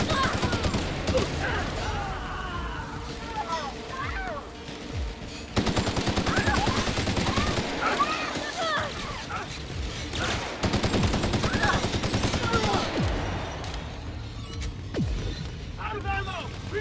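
Gunfire from the video game The Outer Worlds, with repeated rapid shots and bursts that run throughout and sit under frequent shouted character voices.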